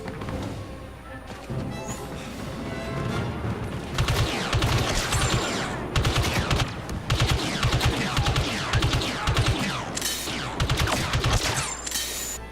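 Blaster fire from the A280 burst rifle in Star Wars Battlefront 2 comes in repeated clustered bursts with short gaps, loud and dense over continuous battlefield noise and crashes, with no voice.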